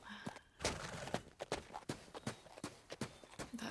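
Horse hooves clip-clop steadily on hard ground in an anime episode, a quick, even rhythm of crisp close hits lasting the whole short stretch.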